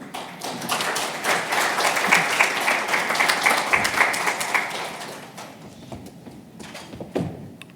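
Audience applause for panelists at a plenary discussion, steady clapping at moderate loudness that tapers off into a few scattered claps and thumps.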